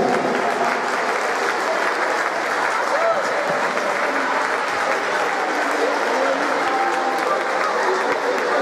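A hall crowd applauds the youth football coaches of the U7 and U9 teams at a season team presentation, with steady, dense clapping sustained evenly throughout without a break.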